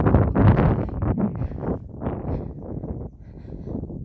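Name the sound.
wind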